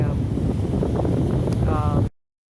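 Wind buffets the microphone on a backpacking trip in Hawaii, a loud, steady rushing roar that cuts off abruptly near the end.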